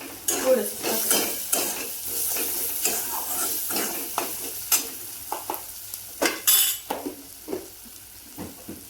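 Turmeric and cumin seeds roasting in oil in a pan for zunka, a Maharashtrian besan dish, with a steady close sizzle broken by repeated stirring scrapes and occasional utensil clinks against the pan.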